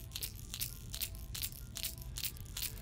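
A Lucky Craft topwater lure is shaken by hand, its single internal knocker giving a steady series of sharp, close clacks, about two per second, faint and without voices.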